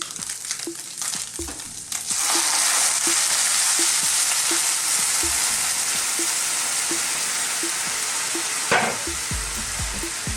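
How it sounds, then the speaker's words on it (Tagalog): Chicken stock poured into a pot of cooked chicken for Filipino chicken mami noodle soup, a loud, steady hissing rush that begins after about two seconds and runs without a break to the end, with no talking. "So, ngayon, lalagay na po natin yung ating chicken stock."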